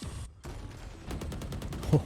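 A rapid run of sharp gunshots through a wall in the game Valorant, fairly faint and quick, under a caster's voice.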